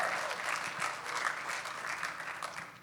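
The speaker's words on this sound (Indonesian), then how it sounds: "tepuk tangan bagi Yesus" A church congregation claps together in steady, dense applause that holds at an even level the whole way through.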